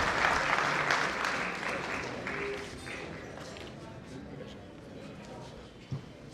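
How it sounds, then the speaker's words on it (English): Conference audience at a sports and exercise medicine event claps loudly at first, the dense applause gradually thinning and fading over several seconds, with a voice speaking underneath. "A big clap for Dr. Jayant Sen."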